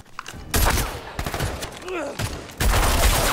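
A shootout from an action film, with bursts of rapid gunfire that come in loud waves separated by short lulls, a whistling ricochet-like sweep in the middle, and intense rattling volleys at the end.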